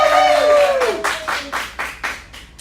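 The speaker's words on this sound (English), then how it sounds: "Let's have a nice round of applause for Maureen Griffin." Scattered applause from a small audience for a senior pageant queen, with several separate claps in an uneven rhythm following a trailing voice at the start.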